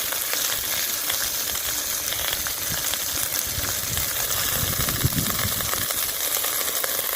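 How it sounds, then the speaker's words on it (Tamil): Thuthuvalai leaves sautéing in a pan with onion, garlic and tomato for a herbal rasam, giving a steady, dense sizzle and crackle that runs unbroken throughout with no talking. "இந்த தூதுவளை இலையை வந்துட்டு நல்லா இது கூட சேர்த்து வதக்கி வச்சுக்கலாங்க"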